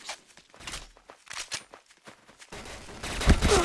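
Gunfire in the video game Point Blank on a deathmatch map, scattered short shots and bursts mixed with footsteps, moderately loud, ending in a denser louder burst of firing.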